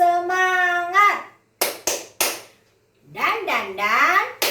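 A group performs the rhythmic 'tepuk semangat' clapping routine, with sung and chanted voices broken by three sharp, close claps in quick succession, then more chanting and one last clap.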